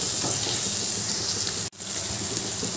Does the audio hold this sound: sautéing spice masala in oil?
yes